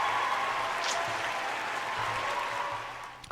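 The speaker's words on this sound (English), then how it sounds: "Hey, round of applause for that one." Steady applause from a crowd fills the whole stretch, a dense even patter of clapping that stays at a fairly constant level before easing slightly at the end, with no talking over it.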